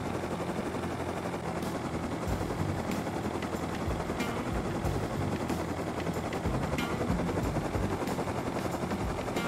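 Helicopter flying in the survival game Rust, a steady loud rotor drone throughout with sharp gunfire-like cracks scattered across it.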